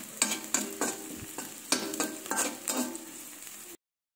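Chopped garlic and onions frying in a pan for tomato rice, stirred with a utensil in a rhythmic series of sharp scraping strokes over a soft sizzle, close, ending abruptly in silence.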